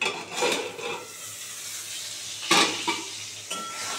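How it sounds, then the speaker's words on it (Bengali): Potatoes fry in a pan with a gentle sizzle, and a spoon scrapes and stirs in a few distinct strokes that clink against the metal. "এটা আস্তে আস্তে 2-3 মিনিট ধরে আমি আলুটা ভাজবো।"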